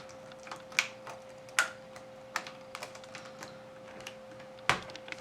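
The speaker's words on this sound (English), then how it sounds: "And now put the hooks of the keyboard in at the bottom," Laptop keyboard of a Dell Inspiron N4020 pressed and clicked into place during a processor fan repair, a handful of sharp plastic clicks and taps spaced irregularly, close and fairly quiet against a faint steady hum.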